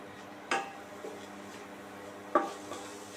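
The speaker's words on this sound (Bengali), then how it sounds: "পুরো ঘিয়ে গাজরটা সুন্দর করে ভাজতে হবে।" A spatula clanks sharply against a pan twice as grated carrots fry in ghee for gajar halwa, with a low steady background hum between the knocks.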